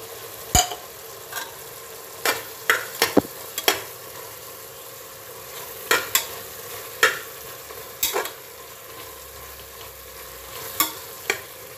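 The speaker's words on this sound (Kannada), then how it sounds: "ಇದು ಒಂದು 5 ನಿಮಿಷ ಚೆನ್ನಾಗಿ ಫ್ರೈ ಆಗಬೇಕು" Ground spice powders with coriander leaves frying in a pan for tomato bath, a soft steady sizzle broken by repeated sharp scrapes and taps of a stirring spoon at irregular intervals.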